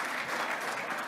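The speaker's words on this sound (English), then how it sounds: "Wendy, I said hold the applause, and then you're the one who broke that" Dense, steady applause from an audience at an Ecomm Forum 2022 awards announcement, a brief close burst of many hands clapping with no voices over it.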